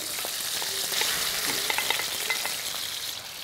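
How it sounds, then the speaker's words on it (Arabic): Chicken breast frying in ghee in a restaurant kitchen for garlic and lemon chicken: a steady, loud sizzle with small pops and spatters throughout. "متأكد هالصوت صوت سيزلينج بلش يبين معانا"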